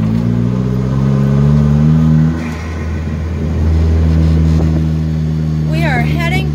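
Car engine revving loudly up and down while drifting, a steady close droning rumble with rising and falling pitch throughout, and a short whine near the end; people talking faintly underneath.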